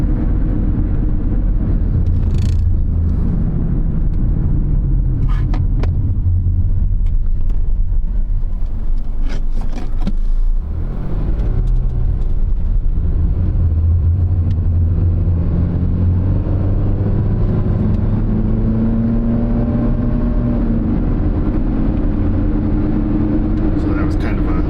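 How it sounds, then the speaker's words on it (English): A car engine revs up under moderate throttle, its tone climbing steadily and close by, with a voice talking over parts of it. "So that was kind of a mid-throttle acceleration, I would say."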